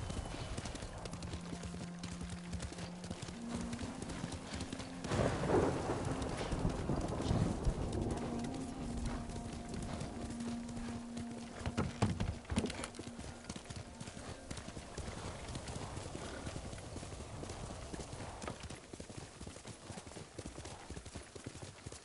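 Hooves pound steadily from a galloping horse in the video game Ghost of Tsushima, a close, continuous rhythmic clip-clop with a brief whinny, birds cooing in the background and some talk over it.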